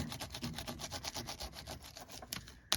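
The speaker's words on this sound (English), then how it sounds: "I'm going to just take my fingers and rub that in" Fingers rub crayon and ink into a mixed media card folder with quick back-and-forth strokes, a faint rhythmic scratchy rubbing heard up close.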